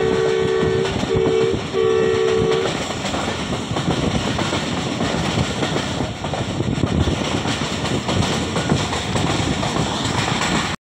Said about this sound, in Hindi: नूर जंक्शन से पास हो रही है 40 डाउन जाफर एक्सप्रेस